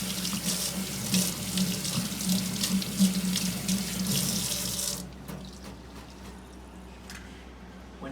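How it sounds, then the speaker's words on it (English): Tap water runs steadily into a sink as hands are rinsed, a loud close splashing rush that stops abruptly partway, leaving a quieter room. "And then rinse properly."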